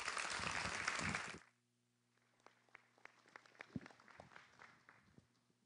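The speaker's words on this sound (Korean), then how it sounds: "우리 박수로 선교사님 맞이하시겠습니다." Loud congregation applause welcoming a missionary to the pulpit at a Sunday church service; it stops abruptly after about a second, leaving quiet room noise and faint movement.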